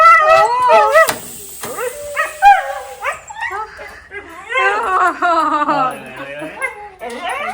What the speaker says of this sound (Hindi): क्या हो गया, रोना क्यों निकल गया भौंकते भौंकते?